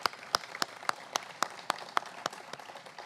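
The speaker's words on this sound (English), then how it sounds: "can we give a round of applause for the Advancement Project staff" Sparse, distinct claps from a small group at an awards event honoring the Advancement Project staff, about a dozen sharp hand strikes in a loose, slightly uneven rhythm over quiet background.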